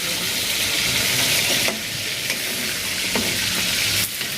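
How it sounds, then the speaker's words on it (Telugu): Chicken and onions frying for a gongura chicken curry, a loud, dense sizzle filling the pan with a few stirring scrapes and knocks, steady and close throughout. "ఇంకా వేస్తాం చికెన్ అప్పుడు ఉల్లిపాయలు వేసి"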